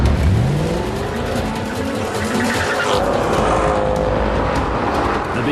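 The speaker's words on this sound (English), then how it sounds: "So let's go back to the traditional Philistine top gear method. A drag race." A Mercedes-Benz S63 and a BMW 760 in a drag race, engines roaring loud and steady as they accelerate hard, with rising revs and a brief tyre squeal.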